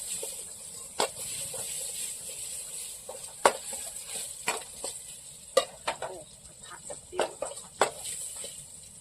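Garlic sizzles in hot oil with a steady hiss, broken by sharp scraping clicks as a utensil stirs and taps the pan, close by.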